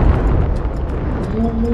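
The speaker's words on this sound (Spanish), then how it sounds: "ni Hollywood tiene esos efectos de explosión" Explosion effect from the video game It Takes Two, a loud sustained rumbling blast with dense low-end roar filling the whole moment, followed by rising tonal whooshes near the end.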